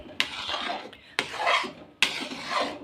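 Hot mawa mixture stirred in a pan with the gas off, the spoon scraping the metal in three rasping strokes about a second apart, close and fairly loud with no talk.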